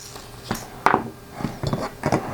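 Hard plastic lid being fitted back onto a small container of tiny screws during a model car build, heard as a few close, sharp clicks and rattling knocks spread over a couple of seconds.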